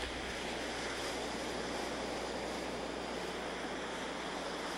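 Continuous broadband wash of ocean surf along the Malibu coast, a steady distant roar with some wind rumble and no distinct breaking waves or voices.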